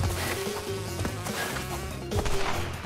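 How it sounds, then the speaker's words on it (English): Flies and bees buzz in the Crash Bandicoot 2 video game, a steady insect drone with a few sharp thwacks and game effects layered over it. "I got flies, I got bees coming after me."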